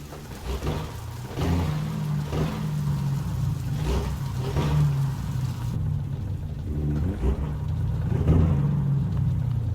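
A heavy Caterpillar C15 truck engine in American Truck Simulator rumbles and revs steadily with its Jake brake, a deep throbbing drone that swells and eases in pulses over the run.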